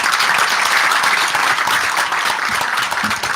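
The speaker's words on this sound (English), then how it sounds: "let's give him a big round of applause." An audience at an agricultural youth presentation breaks into loud, sustained applause, many hands clapping together steadily and close by.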